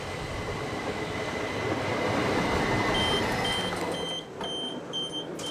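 Steady rumble of a train drawing in on a line in Kent, broad rolling noise with faint high squeals and tones, easing off near the end.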